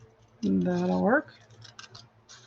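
Scissors rough-cut paper around printed images for an altered envelope project, giving a few light, close snips after a brief voiced hum.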